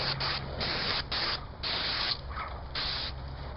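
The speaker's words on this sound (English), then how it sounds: "when you're actually spraying with an airless" An airless paint sprayer blasts paint onto stucco trim in repeated bursts, each hiss lasting about half a second to a second, close and fairly loud, with short gaps and a faint mechanical rattle between passes.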